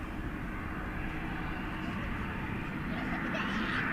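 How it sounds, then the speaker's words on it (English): Singapore Airlines Cargo Boeing 747-400 at DFW at night, a steady broad engine roar held at even loudness throughout, with voices talking over it. "the Singapore Airlines Cargo 747-400"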